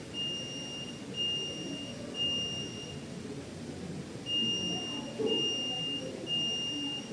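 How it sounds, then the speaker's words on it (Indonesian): A buzzer alarm on a student-built automatic laser security system sounds in long steady high-pitched beeps, a pause in between, over a low background hum. "kita akan mengendalikan buzzer sebagai alarm suaranya"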